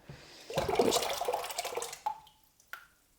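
A splashing pour of paper pulp from print scraps into a vat of water, followed by a few scattered drips and small plops in a quiet room.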